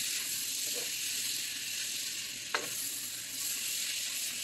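A whole stick of butter sizzles in a hot frying pan, making a steady frying hiss with a couple of faint stirring scrapes.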